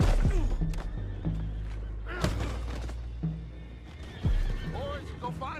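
Horses whinny and neigh repeatedly in the video game Red Dead Redemption 2, with hooves thudding and clopping, and people talk in the background.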